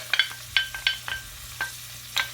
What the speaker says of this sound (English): we're just going to saute this for about 3 minutes